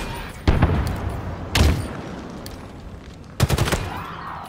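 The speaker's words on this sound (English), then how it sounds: "they're both shooting, so now I can just headshot them" Enemy gunfire in the Halo Infinite campaign mission Nexus: three separate loud bursts of shooting, each a short cluster of sharp shots, spaced over a few seconds with a low rumbling game ambience between them.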